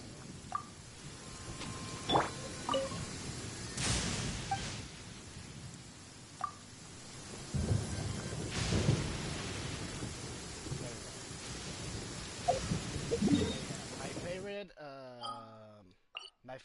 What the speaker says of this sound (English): If you're scared of lightning, hide.